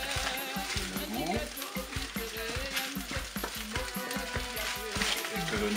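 Onions fry with salt cod in a pan for a rougail morue, crackling and sizzling steadily with repeated scraping and stirring strokes of a utensil, some faint background tones, and no one speaking.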